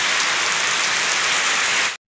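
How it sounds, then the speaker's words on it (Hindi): Steady rain pouring down outdoors, a dense even hiss of drops hitting surfaces that stays loud and unbroken, with no voices, until it cuts off abruptly near the end. "ये देखिए पानी गिर रही है"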